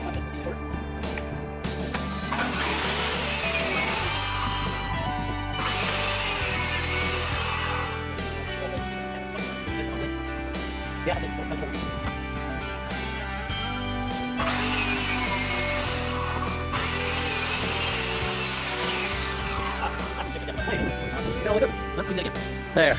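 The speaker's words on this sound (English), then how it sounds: "got some Baltic birch plywood here. I'm cutting the bottom of the cabinet." A power saw rips through Baltic birch plywood for a cabinet bottom in a small woodshop, running loud and close in two long cutting passes with brief pauses and clatter between them.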